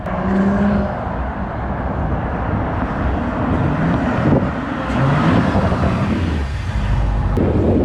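A B9.5 Audi S4 with rolling anti-lag approaches with a steady engine drone that holds loud and broad throughout, muddied by wind noise on the microphone.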